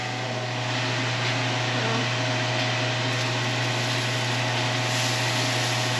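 A homemade hood fan over a Blackstone griddle runs with a steady, fairly loud motor hum and airy whoosh, holding constant for the whole stretch with no voices.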